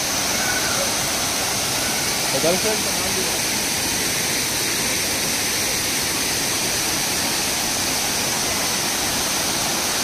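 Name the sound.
Savdav waterfall, Kankavli, water rushing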